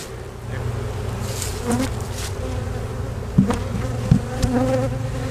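Honey bees swarm around an opened beehive while the hive is being split, making a steady close droning buzz with a few louder passes as individual bees fly near.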